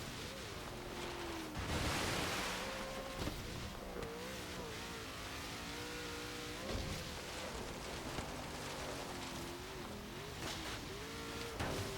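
Engine of a 2013 Ford Shelby GT500 in Forza Horizon 3, droning and shifting pitch as the car drives off-road through water, with splashing noise and a few louder bursts, steady and close throughout.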